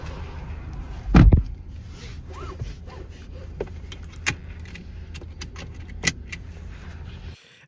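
Keys jangle sharply once near the start as a driver climbs back into a car, followed by soft rustling, a few small clicks and taps, and a final thump as the door closes.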